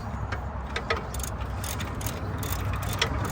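A ratchet wrench tightening the brake caliper bolts on a Nissan Pathfinder R51 during a front brake and rotor job, giving a steady run of fast clicking under constant mechanical noise, close and continuous without talk.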